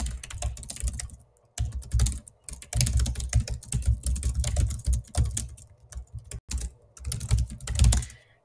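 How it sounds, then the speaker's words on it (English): Rapid typing on a computer keyboard, close-up clusters of clicky keystrokes in uneven bursts separated by brief pauses, with no voices. "I'm really not good at typing when I talk."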